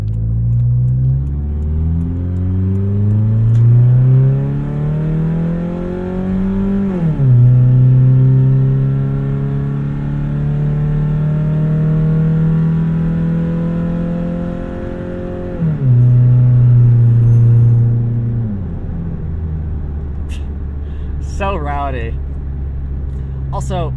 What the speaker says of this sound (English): And you can hear some tire noise.